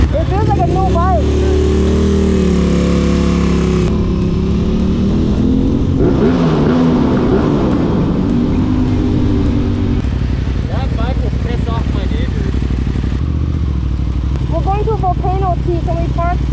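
A sport motorcycle engine, an Aprilia RS 660 with SC Project exhaust or Yamaha R6, revs up and down nearby, loud and rising in pitch, with people talking over it in places.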